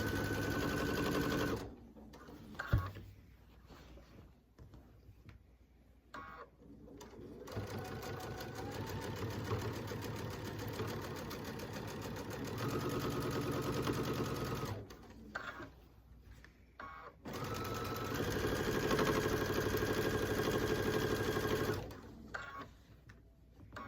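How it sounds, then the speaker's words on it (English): A sewing machine stitches quilt binding at high speed, a loud rapid mechanical hammering in long bursts, broken by short pauses where it stops and restarts. "I think I'm stitching too fast. The camera's shaking with the vibration, so I'll try to slow down."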